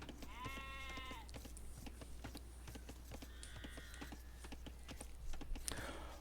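Sheep bleat a few times over a busy game soundscape of repeated clicks and hoof-like clops, with a low steady hum underneath.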